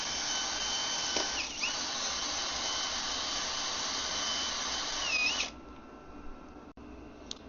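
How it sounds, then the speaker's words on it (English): A wire brush spun on a power drill scrubs rust off a bike chain with a loud, steady high whine for about five seconds that dips briefly, then cuts off, leaving a faint hum and a click. "I'm going to use this wire brush on the end of a drill"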